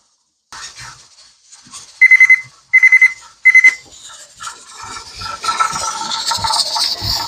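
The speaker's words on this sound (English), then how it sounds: "And we can turn the timer off and get this pot off the burner." A kitchen timer rings in three short bursts of rapid beeping while strawberries are canned in a pressure canner on a stovetop, loud and close, followed by rustling and clattering kitchen noise.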